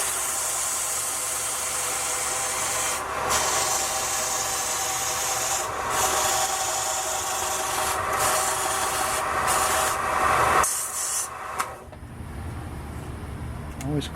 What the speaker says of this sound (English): Let's get him sanded one more time.